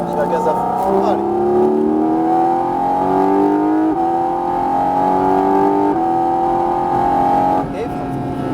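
A Porsche 718 GT4 RS at full throttle on the Fontenay-le-Comte circuit, its engine note climbing steadily through the revs with brief dips at gear changes, loud and continuous from inside the car.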